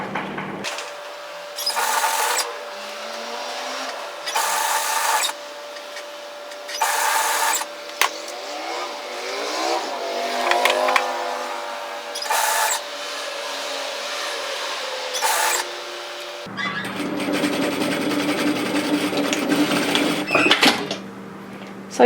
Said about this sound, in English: complete that seam to tidy it up with our overlocker